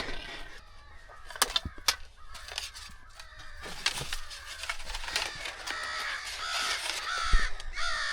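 Crows caw in scattered bursts amid other bird calls outdoors, moderately loud and irregular with no talking.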